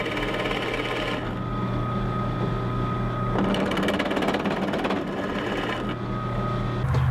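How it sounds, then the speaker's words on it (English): A drill with a Forstner bit cuts a wire slot into a guitar body, a steady close motor whine with rougher, grinding bursts as the bit bites into the wood. "Now I'm just going to use the same Forstner bit and just make a really crude slot here"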